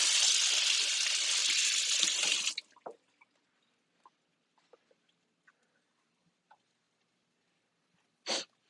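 Batter-coated finger rinsed under running water while cooking a shrimp pancake, a close, steady faucet hiss for over two seconds that cuts off abruptly, followed by scattered small drips and taps and a brief splash near the end.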